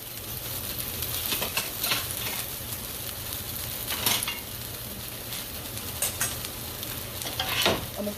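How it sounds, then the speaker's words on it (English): Peppers, onions and potatoes frying in a pan, a continuous crackling sizzle broken by repeated scraping stirs of a utensil against the pan throughout, close and fairly loud with no voices. "I'm going to do my potatoes in this pan."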